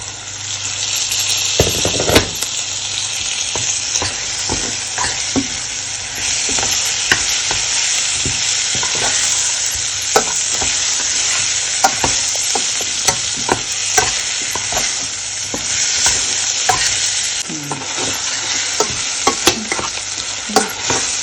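Tomatoes sautéing in sesame oil for a fenugreek curry, a loud steady sizzle punctuated by frequent sharp spoon clicks and scrapes as the pan is stirred continuously, close up with no speech.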